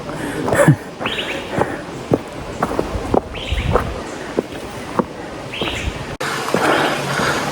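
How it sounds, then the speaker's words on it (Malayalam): Small birds chirp intermittently in the distance, with scattered footsteps and light rustling in a quiet outdoor setting on the Agasthyarkoodam trek. "അല്ലെങ്കിൽ ചെറിയ കിളിയുടെ സൗണ്ട് മാത്രമേ ഉള്ളൂ വേറെ ഒന്നുമില്ല"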